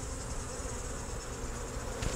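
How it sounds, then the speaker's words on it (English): Honey bees swarm around a beehive frame held by hand, a dense, steady buzzing drone that stays close and constant with no voices. "you can see how many bees are on my hand right now"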